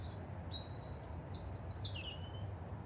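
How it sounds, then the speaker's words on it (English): Small birds chirp in quick high tweets over a low rumbling background, the calls rising and falling near the start and middle. "little bird tweeties."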